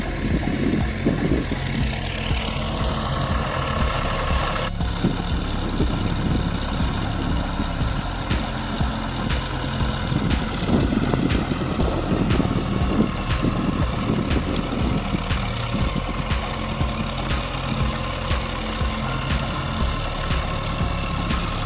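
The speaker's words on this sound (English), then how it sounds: "the forwarder steadily lifts and arranges logs" A forestry forwarder's crane lifts and loads logs with a loud, continuous diesel engine drone. Hydraulic whines and repeated sharp knocks and clunks of timber are layered over it, with no voices.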